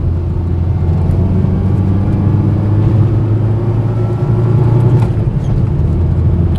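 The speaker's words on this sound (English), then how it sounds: "That long stroke nature, it just wants to do thumping torque like this." A 1975 Austin Allegro 1100 Deluxe's long-stroke four-cylinder engine thrums with low, steady torque on the road, a loud close drone with faint road noise and no speech.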